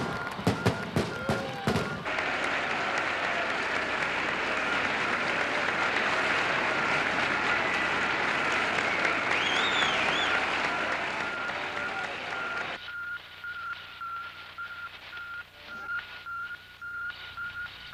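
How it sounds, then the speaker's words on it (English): A large, joyful crowd cheers in Moscow's Red Square, producing a dense, steady roar of many voices that swells and holds at a loud level, then drops away sharply near the end, leaving a thinner, quieter layer of background noise. "Joyful crowds assembled in Moscow's Red Square."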